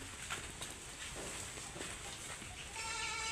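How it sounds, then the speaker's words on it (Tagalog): Goats at a farm pen bleat faintly in the distance, with a few short calls scattered across a noisy outdoor background and a clearer bleat near the end. "Mga kambing natin."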